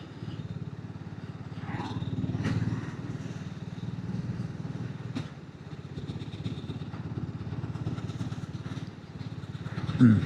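A BSA Goldstar 650 single-cylinder motorcycle is ridden on the road at low speed in top gear, its steady, thumping engine drone heard from the rider's position under wind rumble, with an exhaust pop near the end.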